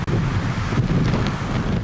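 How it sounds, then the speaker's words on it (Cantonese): Strong gusts from Typhoon Yagi (Super Typhoon Manyi's local name 摩羯) batter the Hung Hom pier waterfront at night. Loud, steady wind roars and buffets the microphone close up, with no one speaking. "紅磡碼頭同樣夜晚10點開始橫風橫雨"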